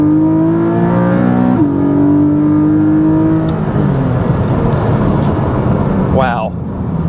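A 2024 Porsche 718 Boxster GTS 4.0 engine accelerating hard: loud, close engine drone rising steadily in pitch, a brief dip at a gear change, then climbing again before easing off, heard over wind and road noise.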